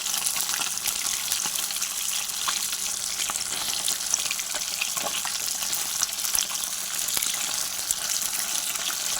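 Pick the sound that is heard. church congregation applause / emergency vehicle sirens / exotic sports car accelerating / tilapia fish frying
tilapia fish frying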